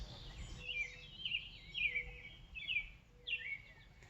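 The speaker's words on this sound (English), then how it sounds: "you can hear the birds singing" Small birds, sparrows among them, chirp and sing outdoors in brief repeated high phrases every second or so, faint and somewhat distant over a low outdoor hum.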